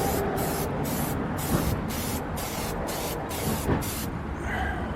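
SEM Color Coat spray paint hisses steadily from an aerosol can onto plastic car trim, a continuous close spray broken by brief pulses over five seconds.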